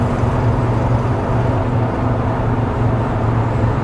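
A 1967 Ford F-100 pickup runs at about 70 mph, producing a loud, steady roar of engine and road noise with a constant low hum and no breaks.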